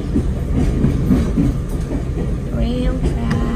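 A local train to Nagoya runs along the rail tracks with a loud, steady rumble and rhythmic clatter close by, while faint voices carry underneath.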